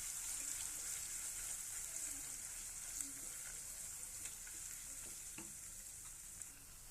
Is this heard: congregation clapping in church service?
no